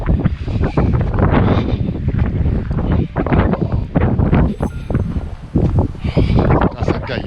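Strong, cold wind buffets the microphone in loud, irregular gusts, roaring and rumbling close up throughout, outdoors by a van with mountains in view.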